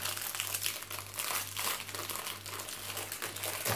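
Biscuits being crushed inside a plastic freezer bag give a steady, close crinkling and crackling of plastic over a low background hum, with no speech.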